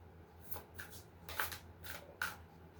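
Tarot cards being shuffled in a few quick riffling bursts, close and fairly soft, over a quiet room hum with no talking.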